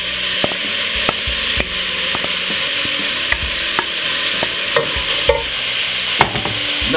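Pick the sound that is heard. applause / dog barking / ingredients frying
ingredients frying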